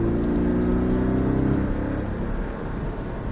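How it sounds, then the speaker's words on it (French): A Porsche Cayman S engine, heard from inside during track driving, drones loudly with its pitch easing and shifting across a few seconds, steady and close. "tu lâches le frein, et tu réaccélères"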